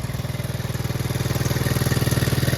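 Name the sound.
1975 Honda Z50J motorcycle engine idling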